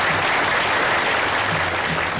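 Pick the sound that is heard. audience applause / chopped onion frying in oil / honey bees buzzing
audience applause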